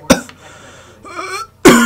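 A person coughs sharply several times during a Red Dead Redemption 2 train robbery session, with a hacking burst at the start, quieter throat noise in between, and a loud, close cough at the end.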